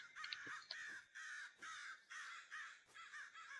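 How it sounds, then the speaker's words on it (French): Crows cawing as ambient sound in a video game, a series of hoarse caws, about six in quick succession at a medium distance, fairly faint and with no other sound. "parfois il y a des bruits, il y a des corbeaux, mais on les voit pas"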